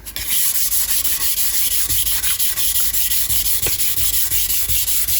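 Steady, close hand sanding with 400-grit sandpaper to strip oxidization from a metal part of a 1968 Norton Commando motorcycle, a continuous rasping rub with brief strokes audible throughout.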